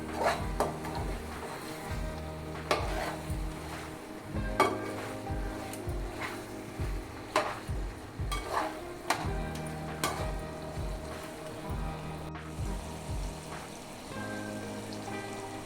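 Chicken pieces for naatu kodi curry frying and being stirred in hot oil, a steady crackling sizzle with regular scraping stir strokes throughout, close and fairly loud, no talk.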